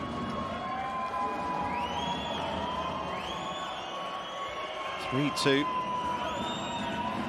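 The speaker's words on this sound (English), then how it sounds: "Sirens going off yet again here in the arena." Rising and falling siren wails repeat over a noisy, cheering crowd in a large arena during an Italy vs Australia men's Olympic qualifying match, with a commentator talking throughout.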